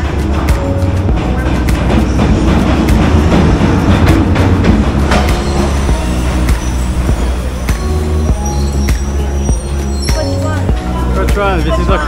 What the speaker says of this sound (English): This is our train, the SE19.